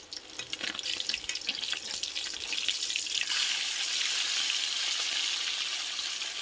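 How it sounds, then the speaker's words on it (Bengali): Fish frying in a pan, a steady hiss that starts patchy with small crackles and then swells into a louder, continuous sizzle, with no voices. "মাছ ভাজা হয়ে এসছে।"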